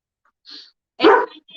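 A dog lets out a soft, short huff, then after a pause one louder bark, with a faint trailing yip. The sounds are close and isolated in an otherwise quiet room.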